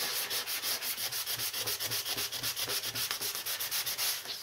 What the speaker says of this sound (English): keep on sanding until you take away those layers